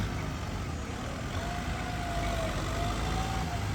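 A Hino M6240 truck engine, stock and unmodified, runs with a steady, loud low rumble and broadband roar, joined by a faint whining tone partway through.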